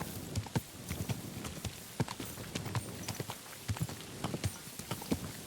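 Horse hooves clip-clop at a steady walking rhythm in the medieval game Kingdom Come Deliverance 2, quiet and even with light ambient background.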